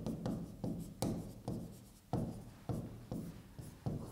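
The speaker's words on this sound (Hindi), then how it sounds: "तो मैं यहाँ पे कुछ चीजें लिखता हूँ" Chalk or marker strokes on a classroom board during a physics lecture, a series of roughly nine short, distinct scratching strokes in an irregular rhythm, close and fairly quiet with no talk.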